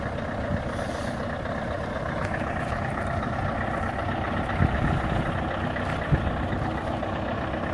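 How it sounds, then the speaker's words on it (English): Scania V8 143 truck engine running and revving at night while being put away in the sheds, a steady deep drone with brief louder surges, close and alone with no talk. "I've got a little video of her actually revving at night"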